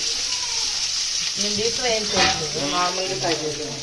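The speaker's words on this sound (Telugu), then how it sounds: "ఆనియన్స్ డీప్ ఫ్రై చేస్తుందండి బిర్యానీ కోసం." Onions deep frying in oil for chicken biryani, a steady close sizzle that runs throughout while a voice speaks over it.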